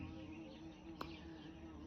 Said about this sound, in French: J'ai le droit à une petite guêpe là ce matin sur la terrasse.